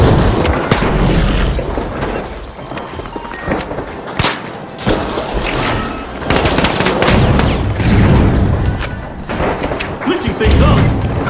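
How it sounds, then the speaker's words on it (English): A glitch grenade is thrown during a match of the video game The Finals, amid dense, loud combat noise with repeated gunfire bursts and booming impacts throughout, plus some speech-like sound. "Using glitch grenade!"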